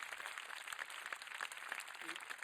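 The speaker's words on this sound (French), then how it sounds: "En tout cas, il applaudit." A studio audience at a French improv comedy show applauds, a faint, continuous patter of many hands clapping at a distance with no voices.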